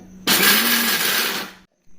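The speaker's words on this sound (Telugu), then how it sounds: "ముందుగా ఇది మనం మిక్సీ పట్టుకోవాలి మిక్సీ పట్టుకోం కదా ఇప్పుడు రైట్ సైడ్ కాకుండా లెఫ్ట్ సైడ్ తిప్పాలి" A kitchen mixer grinder pulses cashews into powder, whirring loudly at close range in a single burst of about a second and a half, then cutting off abruptly before starting again.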